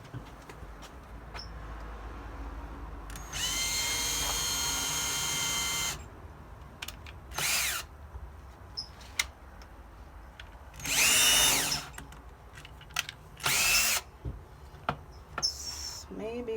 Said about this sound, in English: I'm going to go ahead and pre-drill my little hole so it's easier to screw these in.